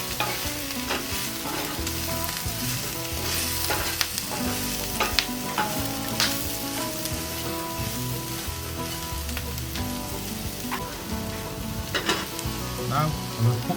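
Home fries with paprika being stirred in a cast iron pan, a steady sizzle broken by repeated scraping and clinking strokes of the utensil, close and fairly loud throughout, with no talking.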